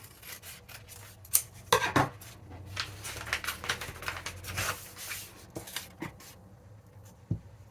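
Scissors cutting paper samples for a collage, irregular snipping and rustling strokes with soft scraping, close and fairly quiet, with no talking.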